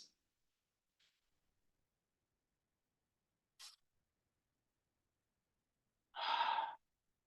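Slow deep breathing during a guided breathing and prayer exercise: a few faint soft breaths, then one louder, full exhale near the end, heard alone in an otherwise quiet room.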